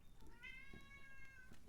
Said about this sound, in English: Yeah, the cat's in the background.